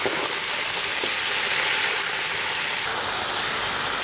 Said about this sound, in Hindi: तो इसमें भून लेंगे साथ ही। फ्राई कर लेते हैं।